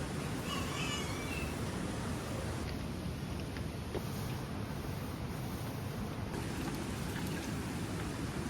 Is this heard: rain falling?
yes